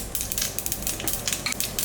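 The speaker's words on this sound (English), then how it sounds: "I'm going to add mustard seeds and let them crackle. You want to hear this noise." Mustard seeds crackle and pop in hot oil in a pan for a Kerala-style prawn roast, a dense, rapid patter of sharp little bursts, close and steady throughout with no talking.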